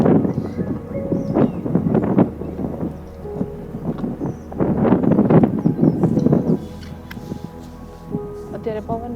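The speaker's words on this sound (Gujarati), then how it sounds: "અત્યારે પવનનો અવાજ વધારે આવતો હશે." Outdoors beside a full lake or reservoir in Bhuj, gusting wind buffets the microphone with a low, steady rumble as someone talks over it almost continuously.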